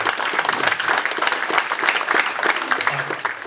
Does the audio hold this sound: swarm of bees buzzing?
no